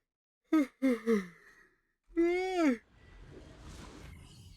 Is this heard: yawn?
yes